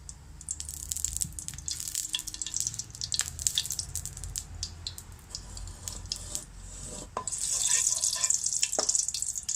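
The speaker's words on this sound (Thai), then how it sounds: "จะคั่วเอาเป็นหอมนะเจ้า ใส่น้ำมันลงไปน้อยนึงนะเจ้า" Shallots roast in a little oil in a pan, crackling and popping in sparse, irregular bursts over a low background, with the sizzle growing denser and louder toward the end.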